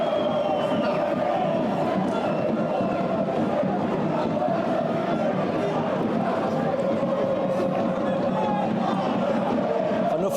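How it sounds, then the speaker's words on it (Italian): Favara supporters in the away section of a football stadium during an Eccellenza Sicilia match cheer and chant continuously, a dense, sustained crowd roar filling the whole stretch without a break. "Fanno festa i tifosi del Favara presenti nel settore ospiti"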